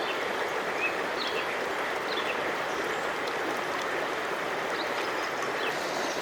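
A New Zealand river runs over rocks in the shallows, giving a steady, close, broadband rush of flowing water that continues evenly throughout with no voices.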